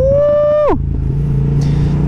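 A custom R7 motorcycle with a new exhaust line revs high, then drops sharply back to a steady idle rumble, close and loud.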